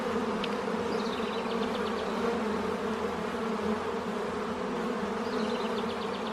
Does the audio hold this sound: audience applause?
no